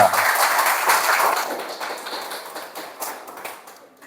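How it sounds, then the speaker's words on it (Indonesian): Classroom applause for a student group during a teaching-practice lesson, a burst of clapping that starts loud and gradually fades over a few seconds, with faint voices mixed in. "tepuk tangan dulu untuk kelompok 2"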